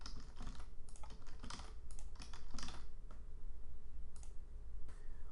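Steady run of computer keyboard typing, quick irregular key clicks with short pauses, close and fairly quiet, entering placeholder values into a software settings form.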